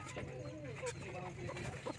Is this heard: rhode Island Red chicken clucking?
yes